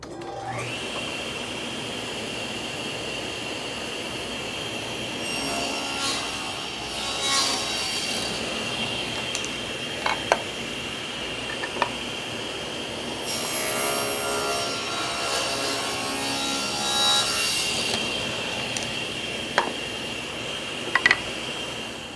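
A table saw cuts several wood pieces for face frame cabinets, a steady high whine lasting through the clip with rising and falling cutting noise and a few sharp knocks, with no talking.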